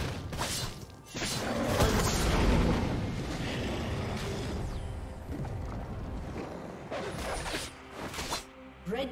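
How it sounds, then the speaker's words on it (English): A League of Legends turret is destroyed with crashing, shattering explosion sounds and swooshes that come in dense bursts over several seconds amid the din of a match. "Red team's turret has been destroyed."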